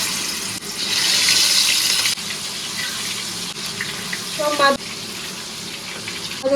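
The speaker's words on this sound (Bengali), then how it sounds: "সর্ষের তেল দিয়েছি এখানে মাছগুলোকে দেখো ভাজা বসিয়ে দিলাম" Katla fish pieces frying in mustard oil in a home kitchen, giving a steady, close hiss and sizzle that swells after the first half-second, with a few brief clatters and a short voice near the end.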